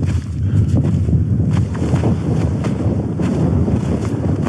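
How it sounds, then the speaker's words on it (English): Strong, steady wind buffets the microphone on an exposed winter mountain path near a Snowdonia summit. It roars continuously with gusty surges and no voices. "It's getting a little bit more windy now as we get to the top."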